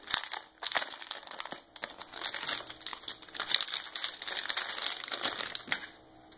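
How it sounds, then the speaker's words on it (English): Plastic wrapping around a new Amazon Fire TV is pulled and torn open by hand, making bursts of loud, close crinkling and crackling that come in quick irregular flurries before easing off. "Comes wrapped in this plastic here. We'll see if we can get that open."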